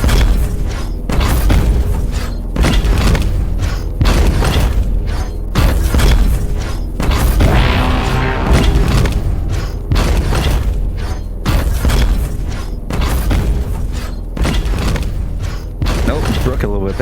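Explosion effects from a scarab-style invention in the Rec Room game: repeated booming bursts at a fairly regular rhythm, heard under continuous speech.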